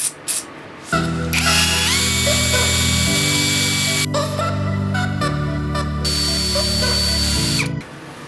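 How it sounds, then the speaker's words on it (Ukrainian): A ProCraft brushless cordless drill spins up with a 1.5 mm bit, a steady loud motor whine that shifts pitch a few times while running continuously, then stops near the end. "Так, відразу попробуємо, чи в роботі буде тримати це сверло."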